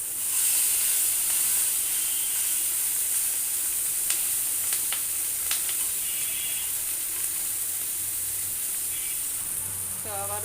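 Vegetable bhaji sizzles steadily in a covered pan, a constant close hiss of frying with a few light clinks and scrapes of stirring.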